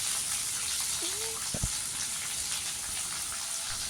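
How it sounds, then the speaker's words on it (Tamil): Chopped onions sizzling steadily as they hit hot oil tempered with chana dal for a Chettinad-style cluster bean pitlai, a continuous broadband frying hiss throughout, with a brief voice-like tone early on. "கடலைப்பருப்பு தாளித்து கொஞ்சம் வந்த உடனே நம்ம வெங்காயத்தை வெட்டி வச்ச வெங்காயத்தை அதில் போட்டுக்கலாங்க"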